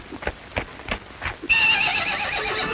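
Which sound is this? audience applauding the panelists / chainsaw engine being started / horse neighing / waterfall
horse neighing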